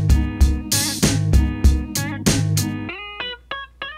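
Hip hop drum pattern programmed in Kong Drum Designer, with booming kicks and snare hits in a steady loop for about three seconds, then the drums drop out, leaving sparse tuned stabs to close, loud and alone.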